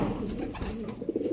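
Pigeons coo softly in a low, throaty rhythm, a few birds close by in a quiet setting, with no one speaking.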